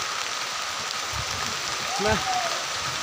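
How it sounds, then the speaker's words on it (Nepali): Heavy rain pours outdoors on an outing to a stream, a steady broadband hiss of drops beating on the ground, with a brief voice rising over it midway. "खतरा पानी पर्थ्यो यार"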